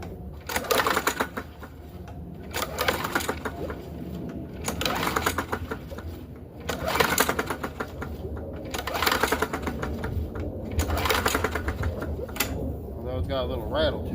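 Murray Select push mower with a 4.5 hp classic engine, recently hydrolocked, running with a rapid rattling chatter that surges and eases in uneven pulses, close by, with a voice talking over parts of it.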